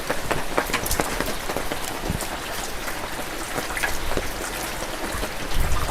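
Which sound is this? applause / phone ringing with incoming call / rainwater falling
rainwater falling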